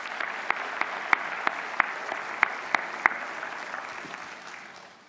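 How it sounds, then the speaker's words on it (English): Graduates applaud at a college convocation, a fairly soft, steady patter of clapping with a few sharp individual claps standing out before it tapers off. "Give yourselves a round of applause."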